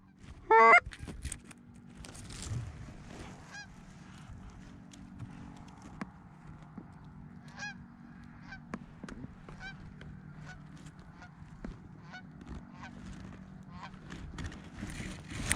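Geese honk during a goose hunt on opening day, one loud honking call close by early on, then scattered fainter honks from a flock spread across a quiet field.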